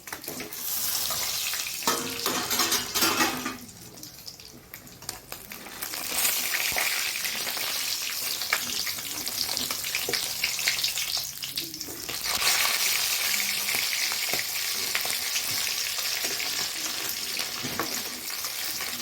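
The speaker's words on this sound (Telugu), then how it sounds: "ఇట్లా అన్ని అన్ని ముక్కలు ఇలాగే వేపుకోవాలి" Fish pieces frying in a pan for a simple Telugu-style fish fry, giving a steady, close, loud sizzle with spatters and occasional stirring and scraping throughout, no voices.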